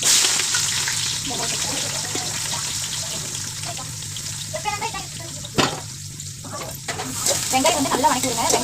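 Cinnamon and whole spices frying in hot oil and ghee for chicken dum biryani: a steady close crackling sizzle with occasional stirring clatter, and no one talking over it.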